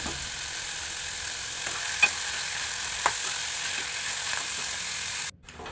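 Sliced onion and green chillies sauté in oil for a banana and beef curry, giving a continuous even sizzle with a few light spoon taps. The sizzle cuts off abruptly near the end.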